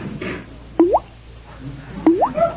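Drops from a leaky faucet fall one at a time, two clear plops about a second apart with a rising liquid ring, close and distinct over a quiet room.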